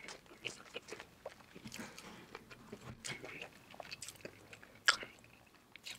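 Soft, close chewing and biting on a Wingstop lemon pepper chicken sandwich, with irregular moist crunches and one sharper bite standing out briefly, faint and intimate.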